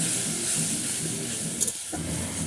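Spices are sautéed in a pan for a Bengali bata fish curry with potato and eggplant, giving a steady, soft sizzling hiss that runs unbroken and alone.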